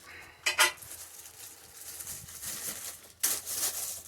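A knife slicing into a trash-bag wrapping around a Hungarian M70 steel helmet, heard as two sharp plastic rips, a short one early and a longer tearing stretch near the end, over quiet room noise.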